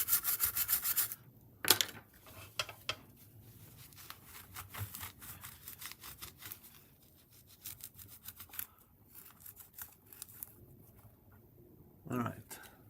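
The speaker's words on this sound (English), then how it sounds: "I'm gonna come with the IPA and try to scrape it off again." Sticky gunk is scraped and rubbed off a GTX1060 graphics card with isopropyl alcohol, making close, uneven scratchy strokes in short rapid bursts with pauses, with a few louder knocks and bumps.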